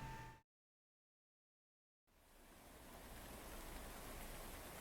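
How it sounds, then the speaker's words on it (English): Steady rain hisses in a dense, even wash in a video game's Zen mode, briefly cutting to silence before resuming and holding at a constant level. "relax in Zen mode with just the sound of rain"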